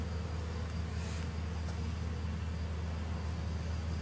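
Honeybees from a small swarm hum in a dense, steady drone around their hive, close and continuous, with no voices over the buzzing.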